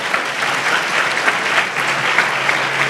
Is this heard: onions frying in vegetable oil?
no